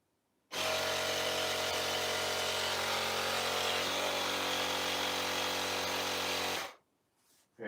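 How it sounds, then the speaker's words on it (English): A portable electric air pump runs to inflate a tire inner tube for an electric unicycle tire change, starting abruptly as a loud, steady motor buzz and hum that dips slightly in pitch midway before cutting off. "I have my portable pump right here."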